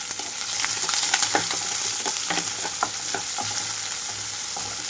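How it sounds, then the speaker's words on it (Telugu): Onions, green chilies, garlic and curry leaves frying in hot oil for a tempering, a steady loud sizzle with scattered stirring scrapes, close up and without voices. "ఇక్కడ ఉల్లిపాయలు కొంచెంగా వేగిపోవాలి"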